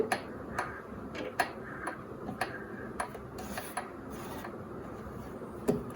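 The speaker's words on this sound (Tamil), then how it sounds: "இந்த த்ரெட்டை ஹோல்ட் பண்ணிட்டு நான் இப்போ ஹேண்ட்வில்ல வந்து ஸ்பின் பண்றேன்" The handwheel of a Usha Janome Wonder Stitch sewing machine is turned by hand, making faint, regular mechanical ticks and clicks close by with no talk.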